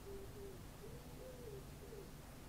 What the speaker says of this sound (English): Bloody wood pigeon again.